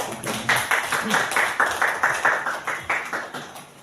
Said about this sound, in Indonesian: Kita kasih tepuk tangan sebentar ya untuk Pak